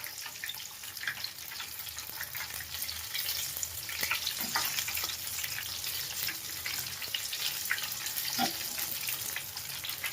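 Surat-style tomato fritters fry steadily in hot oil over high heat, a dense crackling sizzle with scattered sharper pops, continuous for the whole stretch with no talking.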